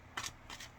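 Two quick, quiet riffling bursts of cards being shuffled, close by and brief, with a short pause between them.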